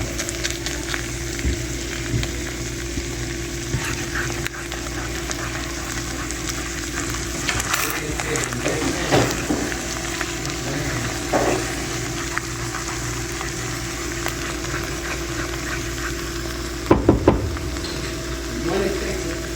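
Eggs frying with rice in a pan at home: a steady close sizzle runs throughout, with occasional stirring scrapes and a few sharp clatters of the utensil near the end.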